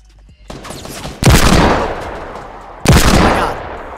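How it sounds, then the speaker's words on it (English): Two loud, close pistol blasts from a hand cannon in the Fortnite video game, each with a sharp crack and a long rolling echo, spaced about a second and a half apart. "this pistol is a beast"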